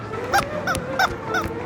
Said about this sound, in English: Squeaky chicken strapped to your foot.